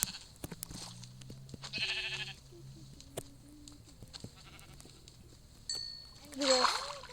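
Blocky sheep in the Minecraft video game let out short synthetic bleats, a few scattered cries spaced apart among splashing water sounds and small game effects, with no talking.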